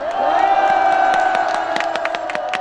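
A street rally crowd outside in a city roadway roars and cheers loudly and continuously, with whoops and sharp claps or shouts punctuating the sustained noise.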